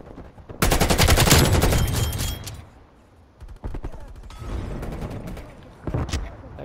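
The Krig 6 rifle fires full-auto in the Black Ops Cold War video game, loud rapid bursts of gunfire with short gaps between strings.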